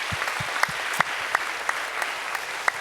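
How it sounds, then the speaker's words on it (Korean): Congregation applause in a Korean church service, an even wash of many hands clapping with a few sharper individual claps standing out, steady and moderately loud. "우리 큰 박수로 한번 격려하겠습니다"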